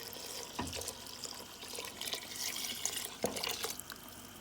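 Coconut milk, about four cups, pours into a cooking pot of Guyanese red peas cook-up rice, giving a steady liquid splash and trickle close by, with two sharper splashes partway through and no talk.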